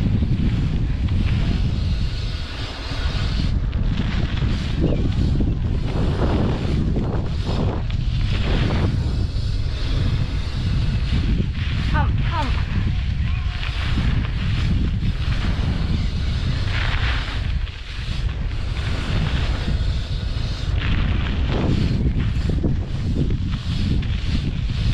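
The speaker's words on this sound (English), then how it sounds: "do one last lap of the pump track" Jump bike with tubeless tyres riding a lap of a pump track, heard from a helmet camera as steady rushing wind and rolling tyre noise that rises and falls through the lap.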